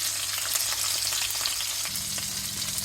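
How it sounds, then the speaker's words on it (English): Pork chops fry in a pan of hot oil while browning, giving a loud, steady, close sizzle with crackling spatter and faint stirring scrapes throughout. "So this will fry on both sides"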